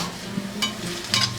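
Garlic and cilantro sizzle in oil in a pan, a soft steady frying hiss broken by a few light clinks of a utensil stirring against the pan.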